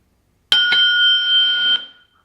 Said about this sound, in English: that's an electronic bell, all right.